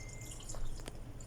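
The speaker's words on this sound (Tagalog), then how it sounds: "nakita nyo nagpumapatak yung tubig" Rainwater dripping after a shower, heard as a few soft, faint drops over a low outdoor background hiss, with no one talking.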